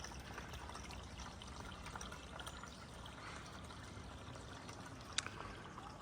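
Water flows steadily into a backyard pond at a home in southeast Boise, a soft continuous trickle and splash that stays faint and even throughout with no talking.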